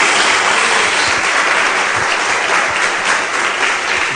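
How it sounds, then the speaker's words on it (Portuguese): Church congregation applauds in a dense, loud, continuous wash of clapping that holds steady throughout without pause. "Dê uma salva de palmas a Jesus."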